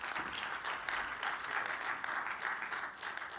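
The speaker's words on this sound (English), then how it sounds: "a round of applause" Conference audience applauds after a transport solutions showcase presentation, a short round of steady clapping from a seated room, fairly soft and distant.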